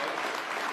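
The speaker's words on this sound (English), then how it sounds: "Yeah, we can clap for that." Audience applause at the TPUSA AmericaFest political conference, a steady dense wash of many hands clapping that fills the whole short stretch without any voices on top.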